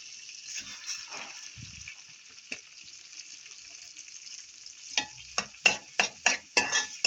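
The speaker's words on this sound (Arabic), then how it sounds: "نحمر حبه الرز" Rice grains frying in a pot while being stirred give a faint, steady sizzle, then a run of sharp, rhythmic scraping strokes of a spoon near the end.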